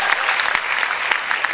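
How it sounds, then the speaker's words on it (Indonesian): Congregation applause at a church service: a short, lively burst of many hands clapping together, close and fairly loud, lasting under two seconds. "Tepuk tangan buat Tuhan Yesus."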